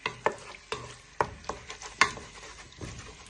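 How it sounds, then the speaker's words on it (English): Pieces of chicken frying in a pan for fajita pasta, stirred and broken apart with a wooden spoon: a row of sharp scraping knocks, roughly every half second, over a faint steady sizzle, close and with no talk. "you'll fry your chicken for 3 to 5 minutes. So you now want to place in all your chicken."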